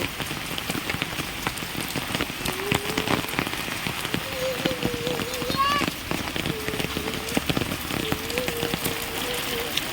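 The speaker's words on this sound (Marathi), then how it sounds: "खूप पाऊस तर भरपूरच आहे" Heavy monsoon rain pours steadily near a village lake, a dense constant hiss of drops on surfaces, with a person talking faintly over it.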